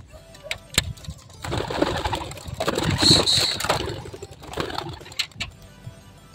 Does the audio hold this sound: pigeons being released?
yes